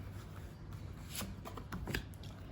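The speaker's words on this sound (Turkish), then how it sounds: "şimdi sizin için birazcık daha karıştırmak istiyorum" Tarot cards being shuffled by hand nearby, a soft, faint riffling and sliding with a few sharper flicks toward the end, no talk over it.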